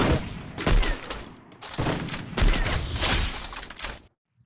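Rapid bursts of gunfire in the Free Fire mobile game, two loud dense volleys with a brief pause between them, ending abruptly in silence.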